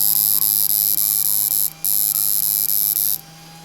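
An AK2 electronic device hums steadily after being switched on, a loud mains-type drone with a high whine pulsing in short regular beats, briefly cutting out twice, with no voices.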